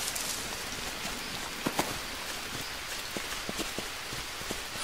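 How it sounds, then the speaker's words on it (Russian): Rain falling in the jungle survival game Green Hell, a dense steady hiss of rainfall with scattered sharper drips and taps, close and fairly loud, with no talking. "Дожди идут."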